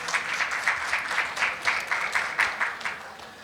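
Audience applause fills a hall at the Indian American Medical Association of Illinois 41st annual gala, steady clapping from many hands with a few louder swells, heard alone without talk.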